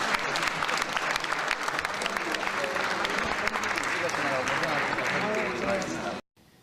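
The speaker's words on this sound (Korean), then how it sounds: "여러분 박수 좀 주세요." Audience applause fills the space as a crowd claps steadily and loudly, a dense continuous patter running several seconds before cutting off abruptly, at an event with a presidential figure posing for a commemorative photo.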